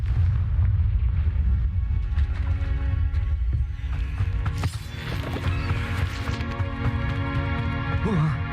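The Confringo blast spell fired in the Hogwarts Legacy video game: a booming explosive burst erupts midway over a constant low rumble and sustained game tones, with a dense crackling tail after it.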